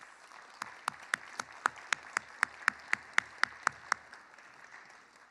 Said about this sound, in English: I think we should give all of you a round of applause.